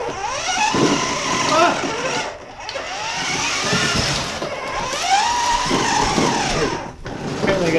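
Remote-controlled Power Wheels ride-on toy car driving, a steady whirring motor hum with rising and falling tones and some scraping, close by and continuous, with a brief spoken exclamation over it.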